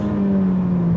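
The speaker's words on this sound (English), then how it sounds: "The best bit about this new 430 is the engine." A Ferrari F430 engine hums at a steady, high pitch with a strong sustained tone, constant in loudness and heard alone without talk.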